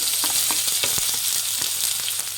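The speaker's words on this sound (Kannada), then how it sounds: "ಇದು ಫ್ರೈ ಮಾಡಬೇಕಾಗುತ್ತೆ ಈರುಳ್ಳಿನ ಮೀಡಿಯಮ್ ಫ್ಲೇಮಲ್ಲಿ ಇಟ್ಬಿಟ್ಟು ಫ್ರೈ ಮಾಡಿ" Onions frying with cumin in hot oil in a pan give a loud, continuous close-up sizzle, with small crackles and stirring taps throughout.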